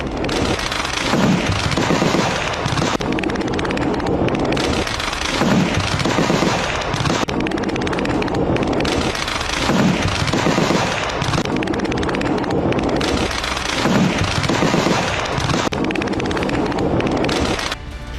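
Gunfire along the Line of Control between India and Pakistan at night, with loud, sustained bursts that repeat steadily and roll together in an echoing stream, and no voices over it.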